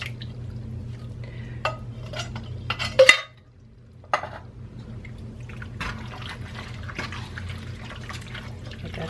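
Two cans of diced tomatoes with garlic being tipped into a cooking pot for chili, with wet plops, sloshing liquid and clinks of metal against the pot, followed by a brief hush and more soft splashing and scraping.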